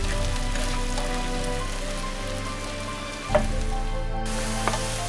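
Finely chopped medium onion fries and softens in a pan, giving a steady, quiet sizzle with a faint clink near the end.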